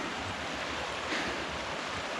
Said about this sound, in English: so it just dumped us out by this little creek that's flown into the main stream down river a little bit